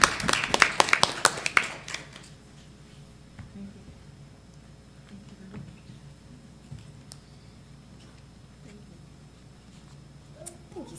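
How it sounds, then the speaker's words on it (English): Applause at a school board meeting: a brief burst of clapping for about two seconds that quickly fades into quiet room tone with small scattered noises. "a big round of applause"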